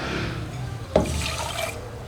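Water poured from a cup into a pan holding sugar for syrup, a short splashing pour with a sharp onset followed by a brief trickle, fairly quiet in a kitchen.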